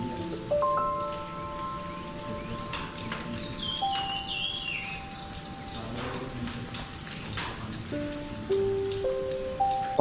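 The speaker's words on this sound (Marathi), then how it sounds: "आकाशातून कोसळणाऱ्या जलधारांचा सोहळा बघण्यात घालवला." Heavy rain falling in a Konkan forest beside a temple, a dense steady patter of drops on surfaces throughout, moderately faint, with occasional musical tones layered on top.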